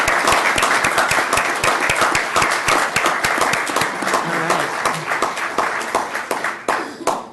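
Attendees at a county Board of Supervisors meeting applaud, with distinct sharp individual claps standing out over a general patter of hands, sustained and close before thinning out near the end.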